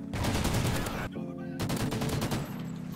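Rapid bursts of automatic gunfire from Call of Duty: Modern Warfare 3 on the Strike Zone map, loud and dense with a brief pause around the middle before the firing resumes.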